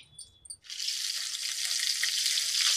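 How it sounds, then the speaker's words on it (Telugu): Mustard seeds with chana dal and urad dal hit hot oil and burst into a loud, steady sizzle after a brief quiet clink, the frying hiss continuing unbroken and close. "ఆవాలు వేగుతున్నప్పుడు ఇందులో 1 స్పూను మనకి శనగపప్పు, 1 స్పూన్ మినపప్పు"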